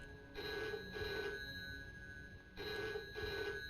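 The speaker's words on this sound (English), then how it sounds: "Is that a phone?" A telephone bell rings inside a video game, with two clear double bursts of bright metallic ringing separated by a short pause and no voices.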